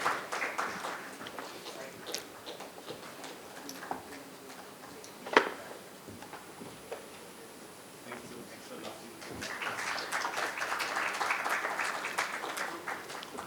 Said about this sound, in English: Can we have the round of applause?